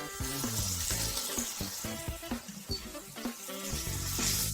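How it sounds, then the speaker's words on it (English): Meatball sauce ingredients, including chili pepper, sauté in a pan over medium heat with a steady close sizzle, broken by the clatter and scrape of stirring. "we're sauteing everything over medium heat"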